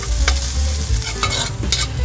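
Onion stir-fried in a pan after garlic, for a sautéed banana heart and squash dish: steady loud sizzling with repeated scraping stirs of a utensil against the pan, close by and with no one talking.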